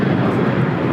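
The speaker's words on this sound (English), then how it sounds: "This is Alaska Airlines 1398 taking off to Mazatlan on a 737-900ER" Alaska Airlines Boeing 737-900ER jet taking off at LAX, a loud, steady broadband engine roar filling a brief moment with no talk.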